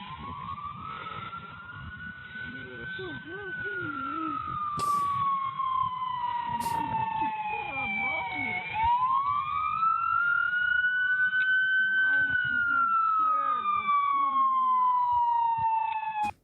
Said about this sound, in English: didn't really need to hear the siren at that sort of speed though